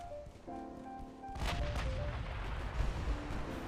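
Naval guns boom in the warship game Ultimate Admiral: Dreadnoughts, a sudden loud blast cutting in over quiet tonal game music, followed by a sustained rumbling roar with further thuds.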